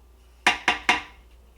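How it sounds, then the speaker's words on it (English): Three quick, bright clatters ring out in an even rhythm as roasted pumpkin seeds coated in butter, sugar and cinnamon drop into a bowl, heard close up in a quiet kitchen. "put the seeds into our bowl here"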